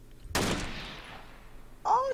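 Gunfire in a video game: one sharp loud burst with a fading tail, followed by a brief voice.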